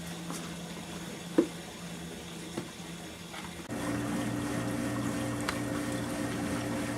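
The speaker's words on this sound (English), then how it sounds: "So new fresh water will come in." Water steadily flows into a Manitowoc QD0322A ice machine as it refills with fresh water after the old water is pumped out. The rushing and trickling starts softer, then turns into a louder, continuous fill with a steady mechanical hum underneath.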